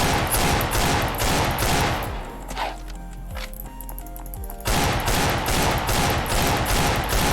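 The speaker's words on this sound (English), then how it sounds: "That's the heavy pistol, aka the Deagle" Heavy pistol, the Deagle, in the Ragdoll Universe game fires rapid loud cracking shots in bursts, pausing in the middle amid clanks and mechanical ringing before the volley resumes.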